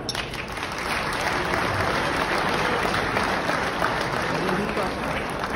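Business award audience applauds loudly and steadily at a speech, a dense, even wash of many hands clapping without pause.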